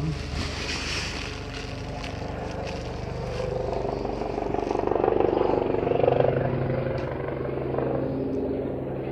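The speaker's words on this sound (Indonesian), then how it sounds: "ada suara pesawat" A distant aircraft drones overhead, a broad rushing roar that swells in the middle and fades slightly, with faint wind in the background.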